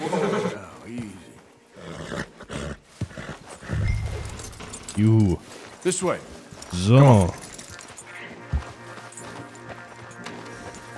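Horses in Red Dead Redemption 2, with snorts, a couple of strained neighs and scattered hoof clops close by, mixed with a voice talking over them.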